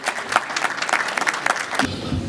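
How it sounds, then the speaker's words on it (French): Audience applause at a 60th birthday celebration in Montreal, a burst of lively clapping from a modest crowd with distinct individual claps, cut off abruptly after about two seconds by a low room rumble. "On l'applaudit très très très fort s'il vous plaît."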